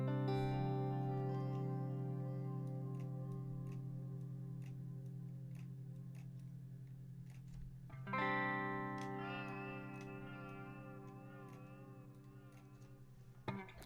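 Lo-fi, distorted synth tones with a gritty, crushed texture and regular ticking clicks, shifting to a brighter chord halfway through, played alone.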